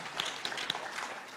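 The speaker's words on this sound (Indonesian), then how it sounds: "Prof. Romin Dahuri, Pak Menteri, kita berikan tepuk tangan yang meriah." Audience applause at a seminar on Sukarno's geopolitical thought and national defence: a steady, fairly faint wash of crowd clapping lasting the whole moment, with a few sharper claps standing out.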